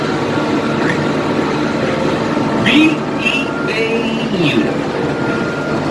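Rumbling noise of a moving studio tour tram fills the scene, with loud crowd chatter and a few high squealing whistles rising over the steady motion.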